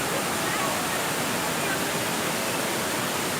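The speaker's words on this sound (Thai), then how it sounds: "น้ำตกแห่งนี้คงความธรรมชาติครับป่าอุดมสมบูรณ์" A forest waterfall at Khlong Yot Nam in Nakhon Si Thammarat roars with a loud, steady, unbroken rush of falling water that fills the whole moment.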